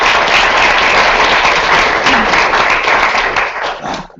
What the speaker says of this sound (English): So round of applause for Comcast.